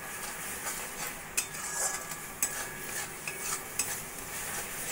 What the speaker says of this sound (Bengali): মশলাটা দিয়ে আমি ভালো করে মিশিয়ে নেব।